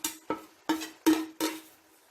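Spoon scraping and clinking in a pot while coconut mixture is stirred into mashed tapioca and fish, five distinct strokes at a steady, even rhythm, close and fairly loud.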